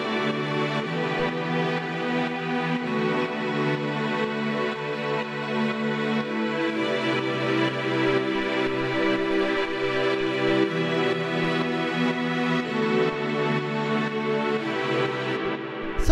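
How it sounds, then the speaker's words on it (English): Lush string chords from a slow, mellow chill house track sustain in a simple progression, the sound warm and continuous, changing chords every few seconds, with no voices. "the first sound we've got here are the strings"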